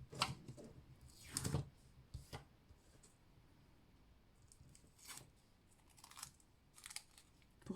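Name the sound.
scissors cutting a 30 cm piece of thread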